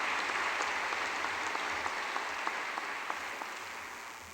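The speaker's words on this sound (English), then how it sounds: "Round of applause, please." A hall audience at a university presidential installation applauds in an even, continuous wash with a few sharper claps, tapering off slightly toward the end.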